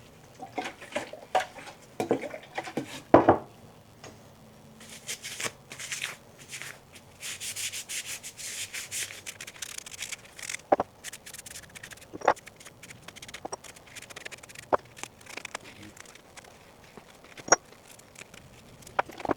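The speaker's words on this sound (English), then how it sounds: "the first step in surface prepping these is gonna be just washing them down with acetone" Acetone-soaked rag wiping down metal parts of a custom-fabricated turbo manifold for a Mazda 323 GTX rallycross car: irregular close scrubbing and rubbing strokes with a few sharp clinks of metal, no talking.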